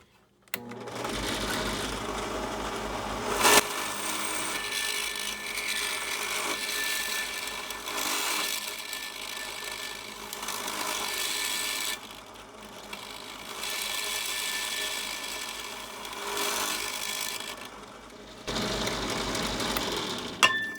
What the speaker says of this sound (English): Okay, got all the holes drilled.